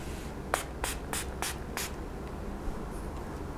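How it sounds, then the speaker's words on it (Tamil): Cucumber toner sprayed onto the face from a pump bottle during a facial, five quick, evenly spaced hissing spritzes in a row, close and clear, followed by quiet. "அதனால் இந்த கியூக்கம்பர் டோனரால் ஸ்ப்ரே பண்ண போகிறேன்."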